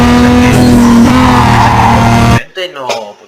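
Loud car engine roar with turbo whine from the 2006 racing game Need for Speed Carbon, driving at night in the open world, sustained at full volume before cutting to quieter engine bursts.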